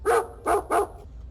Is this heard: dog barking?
yes